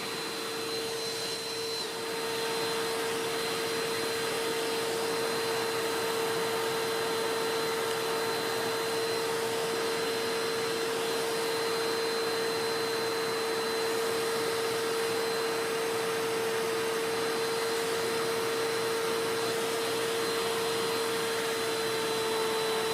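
Eureka PowerSpeed upright vacuum cleaner motor, just serviced with a new cord and a sanded shaft, running in a test with a steady loud whine and roar, uninterrupted and close, with no talk.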